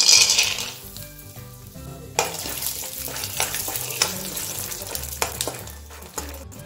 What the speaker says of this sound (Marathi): आता आलू चिवड्यासाठी आपण शेंगदाणे तळून घेऊया।